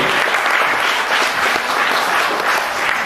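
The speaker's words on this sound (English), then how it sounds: "Big round of applause" Loud, sustained applause from a sizable crowd, dense clapping holding steady throughout.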